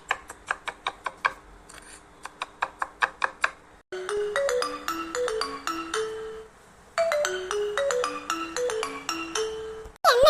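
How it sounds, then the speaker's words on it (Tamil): A phone rings in a Tamil cartoon, a run of repeated short chiming pulses followed by a longer melodic ringtone phrase of stepped notes that plays twice, fairly faint with no talk over it. "என்னது மாணிக்கத்துக்கு ஃபோன் அடிச்சிட்டு இருக்கு."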